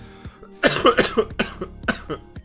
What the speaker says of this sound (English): I apologize for all the hacking you're about to hear.